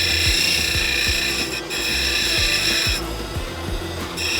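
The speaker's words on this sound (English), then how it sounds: "The 80 grit diamond wheel was disintegrating the stones quickly." An 80 grit diamond wheel grinds soft beach stones, a steady close whine with a bright tonal hum and a rhythmic low thumping as each stone is pressed against the wheel, loud and continuous with no talk.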